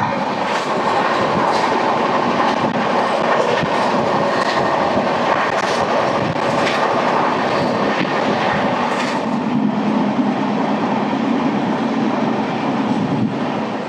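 The Samata Superfast Express, train 12807 from Visakhapatnam, runs at high speed of around 130 km/h, making a loud, continuous rumbling roar with rhythmic rattling throughout, and no voices.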